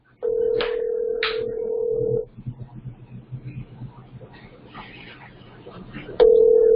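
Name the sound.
telephone call ringing through speakerphone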